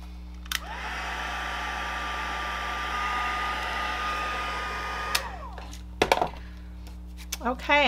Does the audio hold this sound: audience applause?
no